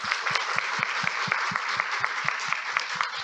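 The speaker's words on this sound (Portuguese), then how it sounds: "Vamos aplaudir o escritor Edgar Teles Ribeiro." Audience applause for writer Edgard Telles Ribeiro at an evening literary talk, a steady dense wash of many hands clapping throughout, fairly close and sustained with no voices over it.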